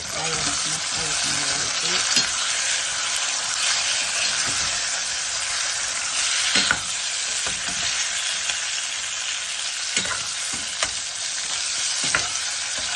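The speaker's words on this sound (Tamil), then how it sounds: "தக்காளி பழம் போட்டு அதை வதக்கி" Tomatoes and onions sautéing in a pan, a loud continuous close sizzle with irregular scraping stir strokes and occasional clanks, no speech.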